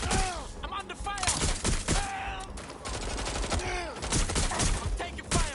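Dense gunfire in the Watch Dogs Legion video game, with continuous overlapping shots, impacts and whizzing ricochets at steady volume, and a voice speaking over the action.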